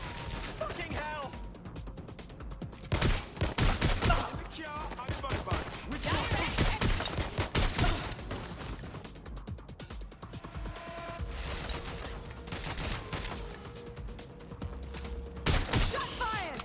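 Gunfire in the video game Watch Dogs Legion comes as repeated bursts of shots and sharp cracks across the scene, mixed with shouting voices and busy game noise throughout.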